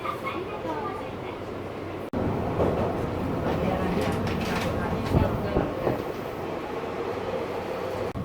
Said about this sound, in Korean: 후쿠오카 공항역에서 지하철을 타고 나카타역 방면으로 가고 있습니다